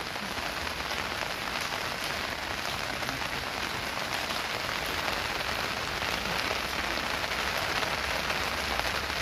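Heavy rain pours steadily and densely on surfaces during an outdoor yoga event in Handwara, Kashmir, a loud unbroken hiss with no voices.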